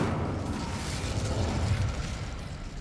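An Incendio fire spell cast in Hogwarts Legacy gives a dense, rumbling whoosh of flame, steady and fairly loud throughout with a low roaring body, no voices.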